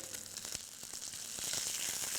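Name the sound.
chicken frying in a pan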